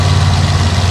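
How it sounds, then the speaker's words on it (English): A 454 cubic inch AMC race engine in the front of a Jeep CJ7 at a drag racing event, idling with a loud, steady, low rumble over a brief moment, heard close with no voices. "454 cubic inch AMC Barry Allen race engine in the front end of this Jeep"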